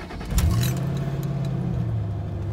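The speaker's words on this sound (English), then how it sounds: "we're gonna start the Mustang for key ignition" Ford Mustang with a manual gearbox cranking over by key ignition, a sharp starter catch that quickly settles into a steady, close, low idle rumble that carries through to the end.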